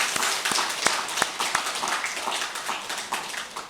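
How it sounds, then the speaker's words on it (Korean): Congregation at a Sunday service in a Daegu church applauds in welcome, loose scattered clapping of moderate strength that thins out and trails off, heard from a little distance. "우리 박수로 환영하도록 하겠습니다."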